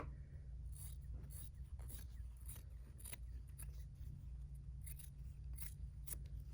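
Sharp scissor snips cut through patchwork quilt fabric, about a dozen crisp irregular clips over a steady low hum, fairly close and with no talking.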